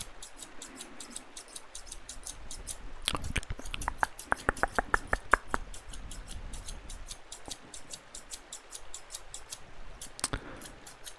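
Rapid snip-snip of scissors cutting hair close by, a fast regular rhythm with a brief denser burst of snips midway.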